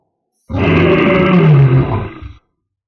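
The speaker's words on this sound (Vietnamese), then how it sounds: "Một tiếng gầm trùng thiên bên trong kiếm trận phát ra" A deep, sky-shaking beast roar used as an audiobook effect for a sword formation in a xianxia fantasy tale, one loud, sustained growling blast of about two seconds with a falling groan at the end.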